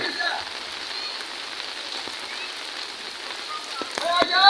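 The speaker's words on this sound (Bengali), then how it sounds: "প্রচন্ড বৃষ্টি গতকালকের থেকে।" A heavy downpour that has run since the day before drums steadily on surfaces nearby, a constant wash of rain with a few faint tonal sounds near the end.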